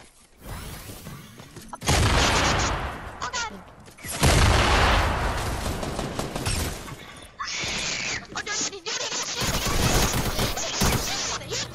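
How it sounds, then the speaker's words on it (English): Fortnite gunfire crackles in loud bursts of rapid shots, with short gaps between volleys and crashing impacts mixed in, and a player's voice occasionally underneath. "Another guy shooting over there."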